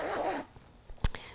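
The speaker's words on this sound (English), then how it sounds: "You need to open the zipper up" A zipper on a sewn fabric pencil case is pulled open in one quick, close rasp near the end, after a short rustle of handling.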